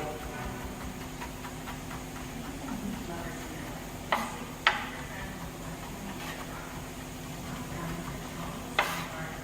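Quiet, steady sizzle of onion frying in a pan, with a few light taps of a utensil against the pan.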